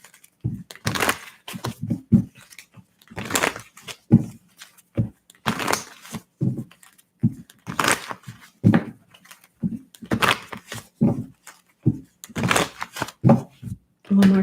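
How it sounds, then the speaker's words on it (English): Tarot cards shuffled repeatedly during a live reading, with bursts of riffling and snapping in an irregular rhythm, close and moderately loud. "One more shuffle."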